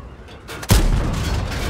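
A tank gun firing at a bunker in a tank battle game: one heavy, booming shot lands after a quiet moment and leaves a long, low rumbling tail.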